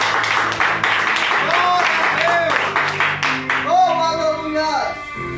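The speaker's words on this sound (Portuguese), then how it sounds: "Pode bater palmas." A church congregation claps along during a sermon, a dense patter of hands over sustained musical tones and voices that swell toward the end.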